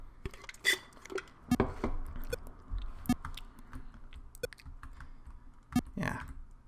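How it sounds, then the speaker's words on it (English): Computer keyboard arrow keys are pressed in scattered taps and short bursts, close clicks of uneven rhythm under a quiet background without talk. "I'll try playing with the arrow keys now and see if that changes."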